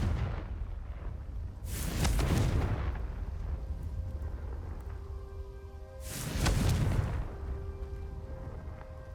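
Two heavy rumbling blasts of the Confringo fire spell in Hogwarts Legacy, roughly four seconds apart, each a loud booming burst that swells and fades over a steady low background drone.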